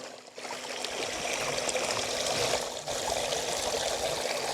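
Water from a battery-powered pump pours steadily into a gold sluice outdoors, a continuous close splashing trickle with no talk.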